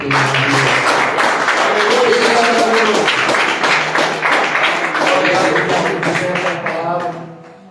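Church congregation clapping together during a worship service, a dense, steady roar of hands with voices or singing woven through, fading out at the end.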